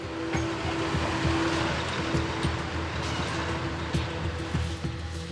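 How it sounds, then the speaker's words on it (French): Delivery trucks rumble out of a warehouse in the morning, a steady low engine drone with occasional clunks, fairly loud and continuous, no speech over it. "8h30, un balai de camions quitte l'entrepôt."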